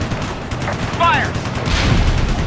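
Gunfire erupts in the Ace Combat Assault Horizon video game as a convoy of armoured vehicles is engaged, with dense, rumbling bursts and booms and a radio voice over the top.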